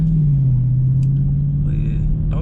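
A 2020 Dodge Scat Pack engine holds a loud, steady low rumble close by, with brief clicks and faint noises over it.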